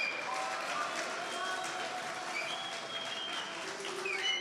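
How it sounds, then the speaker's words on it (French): Audience clapping steadily in a hall after a talk, a continuous fairly distant patter of many hands with a little crowd noise and a voice speaking briefly over it. "Merci Boris Lombard, vous pouvez l'applaudir."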